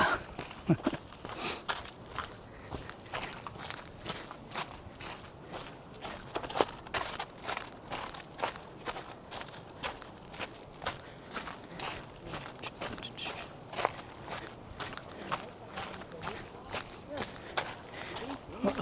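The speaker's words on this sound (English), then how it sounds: "so you guys can hear nature and footsteps" Hiking footsteps crunch along the Mist Trail in Yosemite National Park at a steady walking rhythm, close and crisp, over a soft outdoor background with faint voices nearby.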